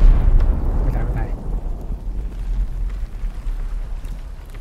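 In the pirate video game Sea of Thieves, a loud explosion erupts in a burst of heavy rumbling noise, then thins out into a rough, windy roar.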